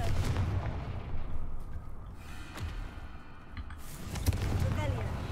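The Confringo fire spell exploding in Hogwarts Legacy, with repeated booming blasts and crackling bursts mixed with game sounds and spoken voices.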